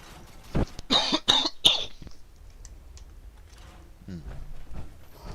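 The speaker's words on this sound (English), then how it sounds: "Smoker's cough." Several harsh, rasping smoker's coughs in a quick cluster, close and loud, followed by quieter breathing and a soft voice.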